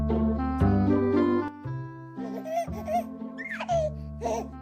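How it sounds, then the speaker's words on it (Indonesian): Baby laughing and babbling in a played cute-video clip, bright giggles and squeals in bursts over a steady tonal music bed, fairly close and clear. "Kok ada suara bayi?"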